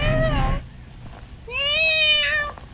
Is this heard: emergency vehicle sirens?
no